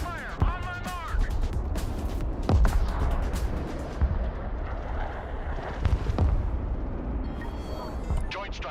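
In the Broken Arrow war game, MLRS rocket artillery fires in repeated heavy thumps and rushing blasts, with rumbling impacts spread across a busy battlefield while a voice speaks over it.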